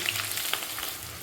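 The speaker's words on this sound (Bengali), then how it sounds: "দেখো আমার বেরেস্তাটা কিন্তু ভাজা হচ্ছে" Chopped onions frying in hot mustard oil as fried onions for biryani, a steady soft sizzle with faint crackles and a few brief pops, close by.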